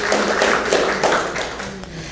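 An audience at a talk on drones and endless war claps in a quick irregular patter, fairly close and loud, fading slightly toward the end.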